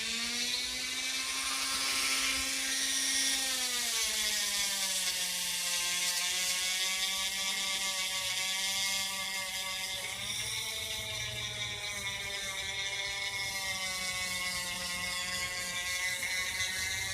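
A rotary tool fitted with a brush bit whirs steadily against an egg, a high-pitched motor whine that dips and shifts in pitch as the bit presses and eases, close up and without talk.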